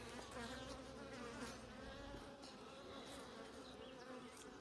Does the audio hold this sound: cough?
no